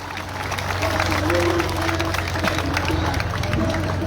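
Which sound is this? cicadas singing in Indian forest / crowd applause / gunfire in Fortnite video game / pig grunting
crowd applause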